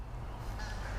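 Canada geese honk in a noisy outdoor setting, their calls rough and blended into a dense wash of low rumble, with no voices present.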